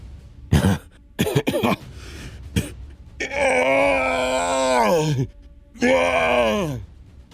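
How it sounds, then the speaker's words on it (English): A man coughs in several sharp, close bursts, then lets out two long, strained groans, the first drawn out and trailing off. "the Bright Lord began coughing again"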